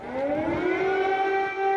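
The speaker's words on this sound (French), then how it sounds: "Les sirènes retentissent partout en Ukraine." Civil defense air raid sirens sounding across Ukraine: a steady, loud wailing tone that climbs slowly in pitch and holds, continuous with no voices over it.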